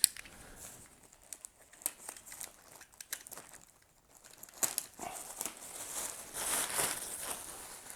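Plastic wrap is peeled and crinkled off a large 700mm mosaic gazing ball substrate that was kept moist for a week. Soft, irregular crinkling and rustling comes close and quiet, growing busier and louder toward the end, with no talking.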